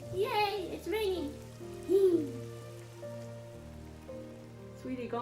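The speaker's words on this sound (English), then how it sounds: "It's raining!" Rain falling on a surface, heard as a soft, steady patter behind a child's and an adult's voices, with a film's sustained music tones underneath.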